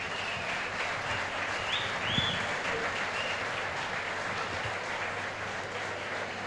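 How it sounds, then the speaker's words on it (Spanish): A crowd applauds steadily, a dense wash of clapping lasting several seconds without pause. "Un aplauso para elas tamén."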